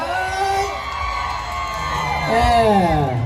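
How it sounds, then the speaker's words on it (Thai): A crowd cheers and whoops at a Thai ramwong dance contest, loud, lively shouts and yells swelling near the end, mixed with an amplified voice. "เสียงเชียร์ตบลบางสายน้อยอยู่ไหน เสียงเชียร์อยู่ไหน"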